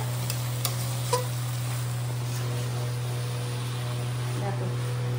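Pointed gourd and prawn curry sautés in an old-style wok, a soft continuous sizzle under a steady hum, with a few sharp clinks of a utensil stirring against the pan.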